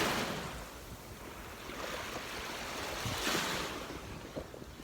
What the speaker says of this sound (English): while I'm sitting by the ocean